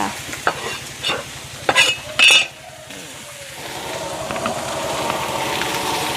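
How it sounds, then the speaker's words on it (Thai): Tender stewed beef and holy basil are stir-fried in a wok over a wood-fired stove, with a soft sizzle and scraping stirs under a few sharp metallic clinks, the sizzle growing steadier toward the end. "ผัดกะเพราเนื้อเปื่อยนะ"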